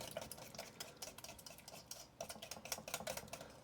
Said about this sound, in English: Now there's my little whisk, Granny Pat.